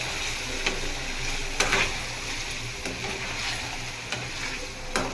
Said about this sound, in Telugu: మంచిగా కలుపుకోవాలి. ముక్కకి పట్టేదాకా పేస్ట్ కలుపుకోవాలి మనం.